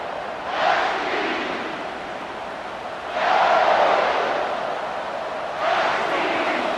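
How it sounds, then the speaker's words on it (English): A stadium crowd in the NCAA College Football 26 video game roars in three rising surges that build and fade. A steady murmur of crowd noise sits underneath between the waves. "The roar of the crowd trying to fuel this defense to keep them pinned in their own end."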